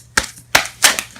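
Three or four quick papery slaps and flutters as tarot cards burst out and scatter during shuffling, close and crisp with short gaps between them.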